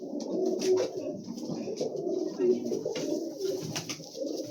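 Pigeons with tails longer than a forearm coo in low, throaty, repeated phrases, close and fairly loud, with faint background chatter and no clear speech.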